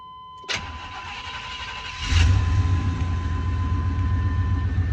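A 1988 Chevrolet pickup engine cranks and catches after a short starter whir, then settles into a steady, rumbling idle that grows louder and fuller, close by with no talk.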